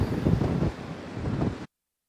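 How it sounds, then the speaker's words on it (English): Strong wind gusts buffet the microphone by the sea, producing loud rumbling blasts that surge and ease before cutting off abruptly. "It was very windy."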